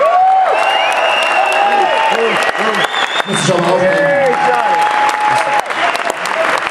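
Crowd at a powerlifting show award ceremony in Essen claps and cheers loudly, with whoops and shouts rising over the dense applause while someone speaks into a microphone.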